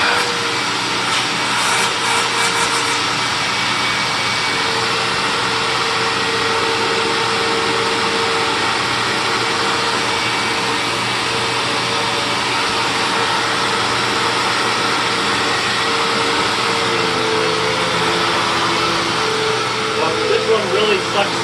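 A vacuum cleaner runs on carpet with a strong, steady broadband roar that holds nearly level throughout, close and loud with no pauses.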